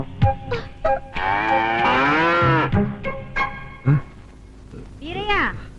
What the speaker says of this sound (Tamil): மாடு ரொம்ப நேரமா கத்துது, போய் பால் கறப்பா.